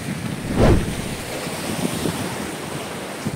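Sea waves wash in at Seethapalem beach near Vizag, one surge swelling and breaking early, then a steady roar of surf mixed with wind buffeting the microphone, with no voices.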